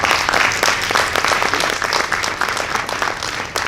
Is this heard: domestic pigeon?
no